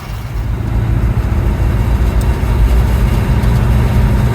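A 1951 Ford F1 pickup drives along with a fitted new fuel pump, its engine giving a steady, smooth low rumble heard from inside the cab, with no voices.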